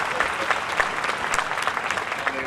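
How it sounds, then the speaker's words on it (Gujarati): Applause at an inauguration ceremony: a sustained crowd of hands clapping loudly and evenly throughout, close and dense, with no talk over it. "આપણે તાળીઓના ગડગડાથી વધાવી લઈએ।"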